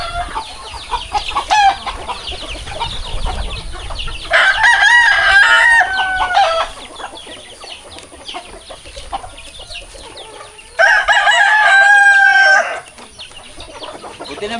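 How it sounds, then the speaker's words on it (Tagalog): Chickens cluck steadily nearby while a rooster crows loudly twice, long drawn-out calls standing out over the clucking. "mga alaga nating manok"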